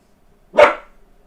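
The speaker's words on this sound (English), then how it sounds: "Max barking for you over there" A dog named Max gives one sharp, close bark that fades quickly into near silence.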